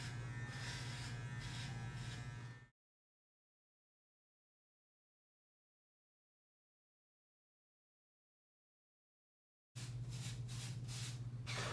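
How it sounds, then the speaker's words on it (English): A gold cordless zero-gapped hair clipper buzzes steadily up close for a few seconds, cuts out to silence, then resumes its even electric hum at the end. "I don't have to go over the same place with these clippers"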